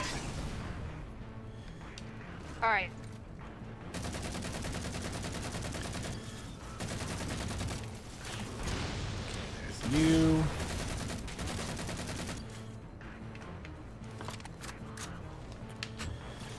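An obliterator cannon fires in the Halo 4 video game amid a sustained fusillade of gunfire and heavy booms, loud and continuous, with occasional voices talking over it.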